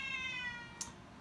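A cat gives a short, faint meow with a clear tonal whine, followed by a single brief click. It sounds alone, with no talking.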